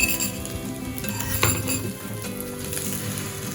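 Beaten eggs seasoned with salt and pepper sizzle as they hit a hot pan for Pinoy-style homemade luncheon meat, a steady close frying hiss with a brief surge and light clinks of utensils.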